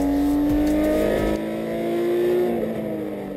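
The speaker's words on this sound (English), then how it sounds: "each of the crews warm up their brakes in preparation for Special Stage 1" Rally cars warm up their brakes on gravel roads before the first special stage of a Hawkes Bay rally, engines droning loud and steady with rising and falling revs as they rush past, no talk.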